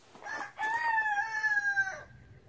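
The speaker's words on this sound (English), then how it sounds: "How about that rooster?" A rooster gives one long, loud crow close by, drawn out for over a second, with no voices over it.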